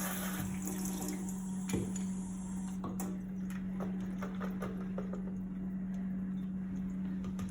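Water runs steadily from a kitchen tap while fresh garden lemons are rinsed, a continuous broadband wash with a low steady hum underneath and a few faint clicks and knocks from handling.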